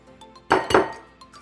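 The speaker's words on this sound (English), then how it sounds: "we're gonna crack open 2 eggs" Two eggs cracked against the rim of a bowl while making cornflake chicken fingers, two sharp close clinking taps in quick succession followed by faint small knocks, no talking.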